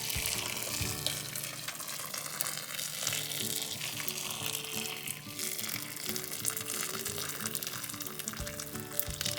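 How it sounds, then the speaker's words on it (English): Pre-boiled water pours in a continuous steady stream into a pot of smoked catfish soup, a close gushing wash with faint clinks underneath. "I add the boiling water to it."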